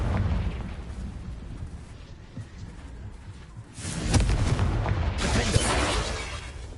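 Explosive spells in the Hogwarts Legacy video game go off as a series of dull, rumbling booms and bursts, moderately loud, rising in a heavier surge of blasts toward the end.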